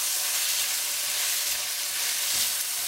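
Chicken sizzling as it fries in a pan over high heat, a steady bright crackling hiss close up with faint stirring sounds and no voices.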